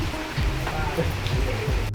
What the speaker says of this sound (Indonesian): Hujan makin gede